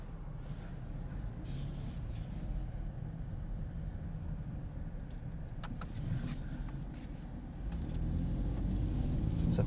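A 2017 Ford Fusion Sport with a 2.7 liter EcoBoost drives with a steady, muffled cabin rumble and road noise that swells louder near the end as it picks up speed.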